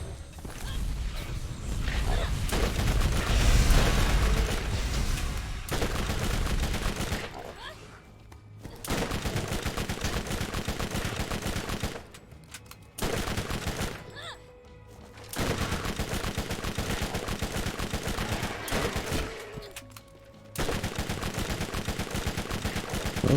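Sustained gunfire while shooting an enemy in the video game Borderlands, long loud bursts of rapid shots broken by short pauses, close and continuous, with game noise underneath.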